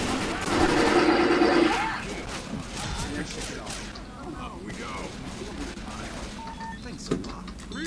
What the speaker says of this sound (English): I'm shooting at it.